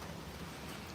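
Steady rain pours down outdoors beside a grill, a dense even hiss of drops with no pauses and no voices.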